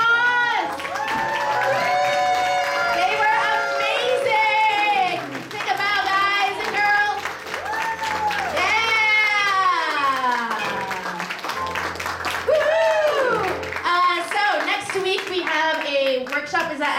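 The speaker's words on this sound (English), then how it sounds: "Every team who was just on stage before and did comedy, give them a round of applause." An audience at a teen comedy class showcase breaks into sustained clapping mixed with whoops and cheering voices, loud and close, lasting the whole stretch with only brief dips.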